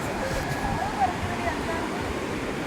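Sea waves wash steadily onto a beach in a continuous broadband surf roar, with faint voices under the water noise.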